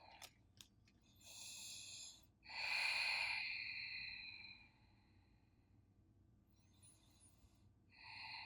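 Slow, audible breaths during a yoga straddle stretch: a soft sniff, then a long inhale and a longer, airy exhale, followed by quiet and the start of another breath, all close and fairly faint.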